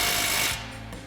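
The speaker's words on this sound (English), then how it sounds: "So now we'll grab our 21 mil socket on our impact and go ahead and tighten this down" A 21 mm socket on an impact wrench tightens a nut on a Jeep Wrangler JK suspension during a lift install, giving a loud, rapid hammering whir for about half a second before it drops to a lower rattle.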